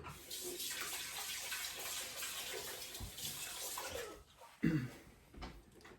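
Water pours into a jar holding a ginger bug for homemade root beer, a steady close splashing stream that thins and breaks off near the end with a few drips.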